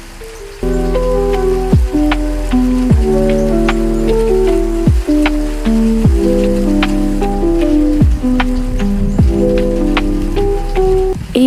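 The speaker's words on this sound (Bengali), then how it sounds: "হাওড়ের বৃষ্টি আসলে অন্যরকম সুন্দর শহরের বৃষ্টির থেকে এই বৃষ্টি অনেক আলাদা" Rain falls on a houseboat on a haor wetland, sounding as steady close drumming with repeated resonant drips and plinks ringing out in uneven rhythm over a constant hiss, loud and alone.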